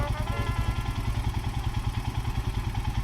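A motorcycle engine, from a Royal Enfield Himalayan or SWM RS650 under repair after breaking down, idles close by with a steady, throbbing low putter and light mechanical clatter, loud and continuous with no voices.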